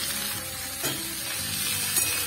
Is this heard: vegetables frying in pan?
yes